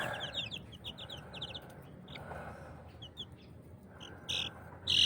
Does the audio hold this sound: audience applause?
no